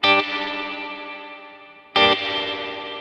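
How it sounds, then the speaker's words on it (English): Two chords strummed on an electric guitar through a Kemper Profiler with tremolo and reverb, each ringing out and decaying with a shimmering, wavering tail before the second strum sounds clearly. "I just show you the difference between tremolo behind the reverb and tremolo before"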